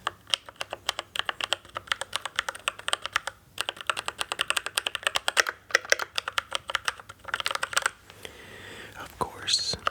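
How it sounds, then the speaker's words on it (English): Rapid clacking keystrokes on a mechanical keyboard, close and crisp, in uneven bursts with brief pauses. "Mechanical keyboards make so many amazing noises."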